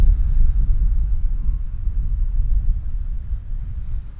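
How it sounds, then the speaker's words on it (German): Strong wind buffets the microphone outdoors at the Jardin de Cactus beach on Lanzarote, a steady low rumble with gusty swells that fills the whole stretch, loud and close with no voices. "es ist immer sehr windig"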